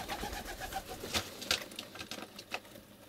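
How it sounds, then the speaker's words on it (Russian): Pigeons coo close by in soft repeated murmurs, with a few sharper rustles and flutters mixed in. "Вот они, голуби."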